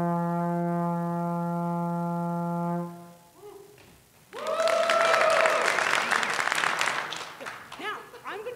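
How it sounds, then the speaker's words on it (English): Trombone played in a middle school range sounds a long, steady, loud low note, then a couple of short notes, before a crowd breaks into loud cheering and applause that fades out. "Now, which trombone, okay? I'm going to play middle school range for you"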